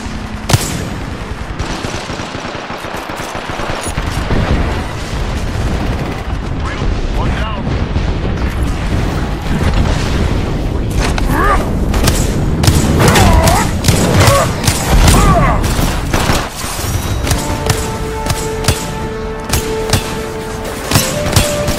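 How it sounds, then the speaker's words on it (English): A called-in airstrike in the video game Apex Legends pounds the area with rapid booming explosions and bursts of gunfire, loud and dense throughout, with crashing impacts and game voice lines over the top. "Calling the airstrike."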